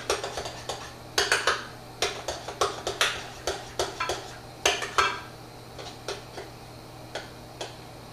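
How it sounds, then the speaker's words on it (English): Strawberry chia seed jam stirred in a pot, a rapid irregular series of sharp clinks and taps of a utensil against the pot rim and sides, close and clear with no talking. "I'm just going to give my organic strawberry chia seed jam another stir while I'm waiting for this to brown."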